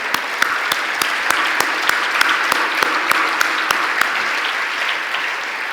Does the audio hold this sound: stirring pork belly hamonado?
no